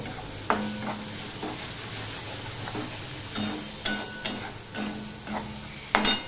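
Spice paste with salt stir-fried in oil for doi chicken, a steady sizzle with repeated spatula scrapes and knocks against the pan at an irregular rhythm, close and moderately loud.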